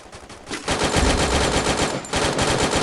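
Rapid automatic gunfire from a shooter video game rattles in long loud bursts after a brief quieter opening, with no speech.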